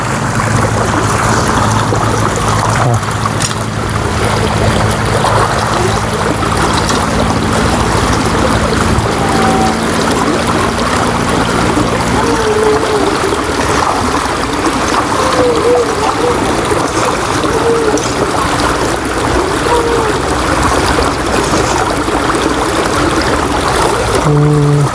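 A boat approaches on the water, a low motor drone in the first half giving way to sloshing, trickling water and splashes, continuous and fairly loud outdoors.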